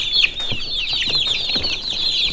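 A young chick gives a steady run of high, rapid peeping chirps, close and loud, with no voices.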